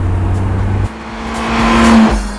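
Honda S2000 sports car with a naturally aspirated engine, loud and close: a steady engine note drops off abruptly, then a rising rev swells to a peak before easing, no talking.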